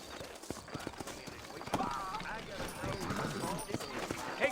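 Horses' hooves clip-clop steadily in a Red Dead Redemption town scene in New Ulster, a close, continuous trotting rhythm over a busy background.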